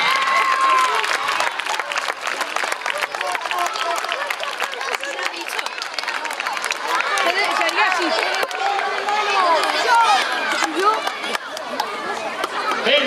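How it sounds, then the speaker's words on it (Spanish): A school audience applauds a prize winner at a classroom event, dense sustained clapping filling the whole stretch with cheering and chatter mixed in, loud and close throughout. "fuerte aplauso para ella"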